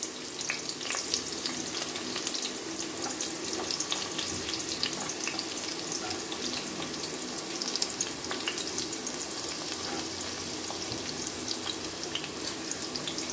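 Onions frying in hot oil in a pan for an Andhra-style chana dal and fresh coconut curry, a steady dense sizzle and crackle running throughout at close range, with no voices.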